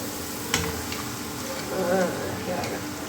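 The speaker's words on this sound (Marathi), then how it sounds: "अद्रक लसूणचं पेस्ट बनवलेलं टाकून घेते" Ginger garlic paste sizzles gently in hot oil in a pan, a steady soft crackle with a few stirring clicks, while a voice talks over it.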